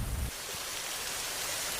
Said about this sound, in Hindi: अरे नहीं, बारिश तो अब तेज हो रही है।